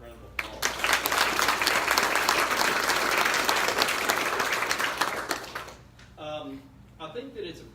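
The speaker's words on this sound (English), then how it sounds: "let's give them a round of applause" Sustained clapping from an audience at a bank branch ribbon-cutting ceremony fills several seconds, then fades as a voice begins speaking.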